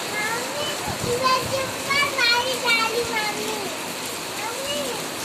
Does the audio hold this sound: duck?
no